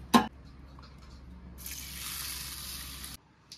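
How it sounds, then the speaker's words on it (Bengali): Water pours into a bowl of rice and black gram dal, a steady rushing splash for about a second and a half after a short knock, then stopping abruptly. "চালের মধ্যে তো জল দিয়ে দিয়েছি"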